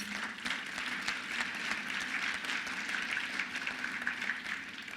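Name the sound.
applause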